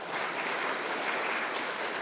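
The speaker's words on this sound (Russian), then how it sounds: "Еще раз бурные аплодисменты" Thick, sustained applause fills a hall at a formal state award ceremony for members of a heraldry council in Tatarstan, steady and moderately loud without a break.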